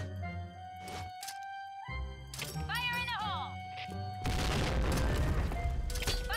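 A grenade explodes in the shooter game Point Blank, a loud broadband boom that bursts in partway through and rumbles on after tonal game sounds and a voice.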